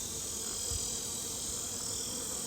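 Honey bees swarm around an open hive, making a steady, close, dense buzzing drone that holds evenly throughout with no voices.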